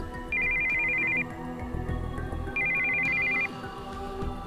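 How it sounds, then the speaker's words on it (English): An incoming-call ringtone on a cell phone in the visual novel Steins;Gate 0 plays two bursts of a bright, steady electronic tone, each about a second long, over a quiet background with no talking. "We heard the sound of an incoming call on a cell phone."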